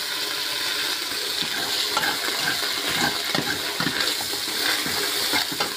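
Ground meat being stirred in a sizzling pan while cooking dinner on a farm, with a steady wet frying hiss and irregular scraping of the spoon through the meat.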